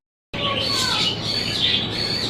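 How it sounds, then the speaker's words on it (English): Frightened birds call out during a severe thunderstorm with heavy rain, their chirps and squawks close and loud over a constant roar of rain. "Look at that, and the birds are freaking out. They are scared."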